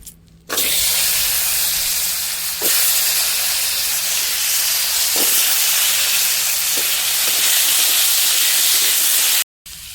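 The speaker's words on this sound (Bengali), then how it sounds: "এবার আমি আলুগুলো ভেজে নেব" Potatoes frying in hot oil give a loud, steady hissing sizzle that runs almost unbroken for about nine seconds, with a few faint crackles and pops. It cuts off abruptly near the end, and no one speaks.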